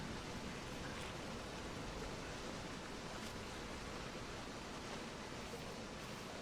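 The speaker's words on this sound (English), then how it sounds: "Nice little waterfall area here." Steady broadband rush of a waterfall in the island scenery of the video game The Witness, a continuous wash of falling water heard at a constant level throughout with no talk over it.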